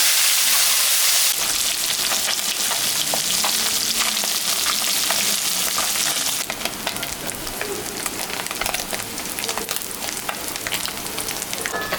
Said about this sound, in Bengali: তেলটা গরম হয়ে গেছে, মাছটা এখন আমি ভাজে নেব।